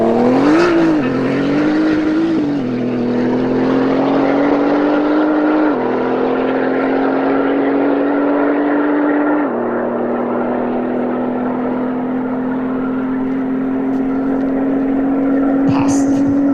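A Nissan GT-R R35 tuned to 1000 PS holds a loud, steady engine drone with a couple of rev blips at the start and small pitch steps as it pulls, running continuously near the listener without speech.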